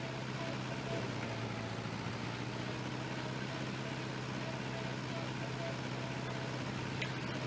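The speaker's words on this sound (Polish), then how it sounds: "Naprawdę dźwięki są spoko. Y, tego ciągnika." A tractor engine idling in a farming video game, a faint steady low hum with a constant drone throughout.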